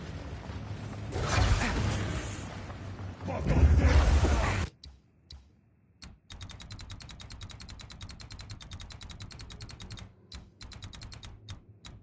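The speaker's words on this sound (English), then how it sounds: "It's so many fucking explosions." Rapid-fire explosions from the action game Path of Exile 2, a dense burst of loud blasts giving way to a long, fast chain of sharp, clicking detonations that rattle on rhythmically after a brief lull.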